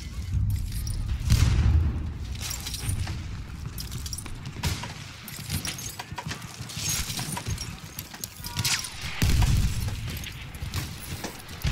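Gunfire in Battlefield 1 multiplayer in a forest setting, with heavy booming reports and rattling bursts mixed into dense battle noise, loud and continuous, with a deep thump near the start and another near the end.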